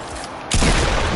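A gunshot in a shooter video game bursts in loudly halfway through, a sudden broadband blast that follows a quieter stretch of background game noise.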